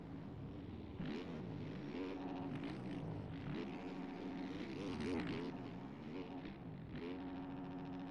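A motocross bike in a supercross racing video game revs hard as it accelerates, its buzzing engine note rising and falling steadily throughout, loud and continuous under faint background talk.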